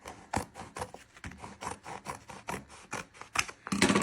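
Scissors slice through a roll of black glitter sheet with felt backing, a run of close, crisp rhythmic snips and rubs, getting louder toward the end.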